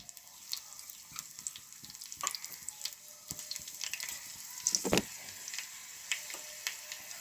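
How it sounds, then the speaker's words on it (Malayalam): Mustard seeds popping in hot oil for a Kerala-style buttermilk tempering, a light sizzle scattered with sharp, irregular crackles and pops that build to a louder burst midway. "സ്വല്പം കടുക് ഇടുക. അത് പൊട്ടുമ്പോൾ"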